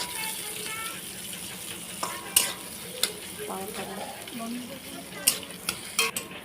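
Onions frying in oil in a kadai, steady sizzling broken by repeated sharp scrapes and knocks of a spoon stirring against the pan, with some talk over it.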